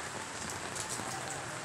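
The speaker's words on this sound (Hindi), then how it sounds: "यार, बारिश हो रही है" Steady, dense downpour of heavy rain drumming on a surface, constant and close with no pauses or voices.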